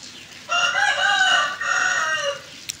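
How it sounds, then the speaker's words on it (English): A rooster crows loudly and close by in the rain, one long drawn-out call in two bursts with a brief lower tail at the end. "The rooster sound"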